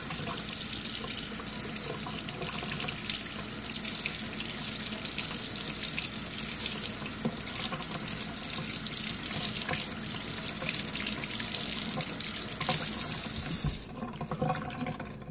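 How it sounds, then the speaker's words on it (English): Steady running cold tap water pours over a Scrub Daddy sponge for most of the clip, then cuts off abruptly near the end, leaving faint room noise. "So I'm going to run it under some really cold water."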